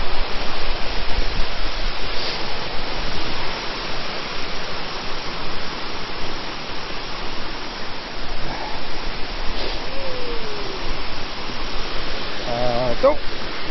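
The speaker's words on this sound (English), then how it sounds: "Love checking out waterfalls." Steady broadband rush of a waterfall beside a hiking trail with stairs and wet areas, a constant close roar filling the whole clip, with brief faint sounds and voices barely surfacing over it.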